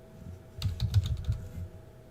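A brief burst of rapid keystrokes on a computer keyboard, close and moderately loud, sits between quieter stretches of low hum.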